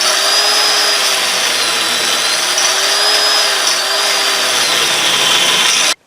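A continuous, loud metal grinding whine with a slowly wavering pitch as ball joint rivets on a GM truck are ground off, steady for about six seconds before it stops abruptly.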